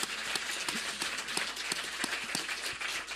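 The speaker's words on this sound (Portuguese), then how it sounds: "E para vocês, essas palmas" A live concert audience breaks into steady, dense applause that fills the space, many hands clapping continuously at close range with a few sharper claps standing out.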